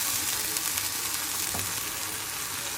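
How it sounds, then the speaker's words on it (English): A corn tortilla dipped in birria sauce fries in a pan for birria tacos, giving a steady, loud, close sizzle with a crackling hiss that runs the whole time and has no talking over it. "I'm gonna let it fry for a minute, and then we're gonna flip it."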